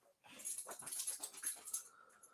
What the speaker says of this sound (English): Who's a wet dog?